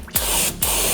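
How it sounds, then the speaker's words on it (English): Brake cleaner sprayed from an aerosol can during transmission oil pan gasket work on a 2011 BMW, two loud close hissing bursts separated by a brief pause. "It's just brake clean."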